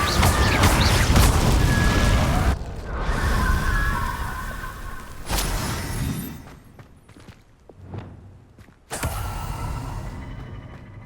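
The Incendio fire spell is cast repeatedly in Hogwarts Legacy, with whooshing bursts and booming impacts separated by creaking and mechanical game sounds, loud and close.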